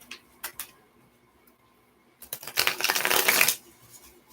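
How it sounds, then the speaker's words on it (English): Playing cards are shuffled nearby, a dense riffling burst of about a second after a few faint taps and clicks, in an otherwise quiet room with no talking. "So we're going to shuffle again."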